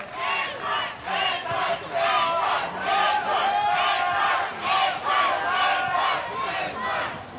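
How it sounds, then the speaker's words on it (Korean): A studio audience applauds and cheers for a national curling team athlete, loud continuous clapping with crowd shouts swelling in waves. "큰 박수 부탁드리겠습니다"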